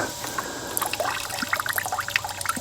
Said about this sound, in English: I'll just pour it in my little bin.